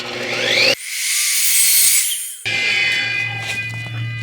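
An Evolution R255 SMS+ miter saw spins up with a whine, then its blade bites through a threaded all-thread rod with a loud, harsh metallic screech before the motor winds back down.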